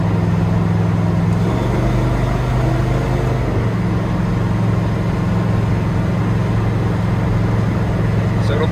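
A boat engine cruises on plane at about 2,800 rpm with a stainless or aluminum prop, giving a steady, loud, droning hum throughout with a slight pitch shift early on, close and unbroken.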